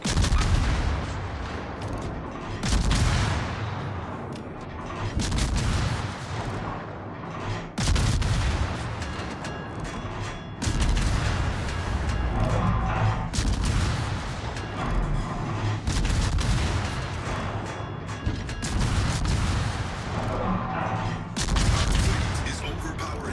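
Warship guns fire again and again in World of Warships, heavy booming salvos and rumbling blasts over a constant low battle roar, with a voice talking underneath.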